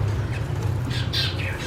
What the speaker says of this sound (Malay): Ada burung kat atas.